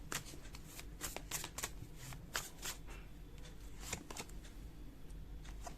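A tarot deck shuffled by hand during a pick-a-card reading, producing close, quiet bursts of riffling card snaps in an irregular rhythm, alone without speech.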